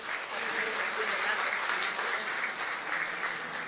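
Audience applause at a tribute concert honoring a composer, a steady dense wash of many hands clapping that holds evenly for the full stretch without pause.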